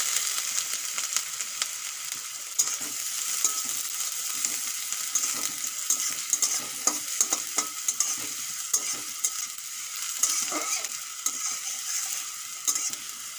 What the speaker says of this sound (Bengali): তেল গরম হয়ে গেছে, প্রথমে দিয়ে দেবো গাজর